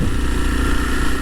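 Motorcycle engine idling in a parking area outside a California DMV office, a steady low rumble that holds throughout at moderate loudness, with no talk over it.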